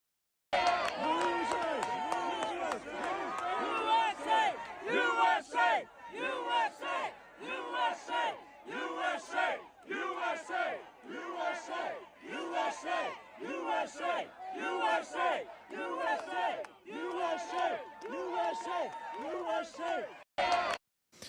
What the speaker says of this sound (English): The overflow crowd outside the meeting cheered USA in celebration upon hearing the news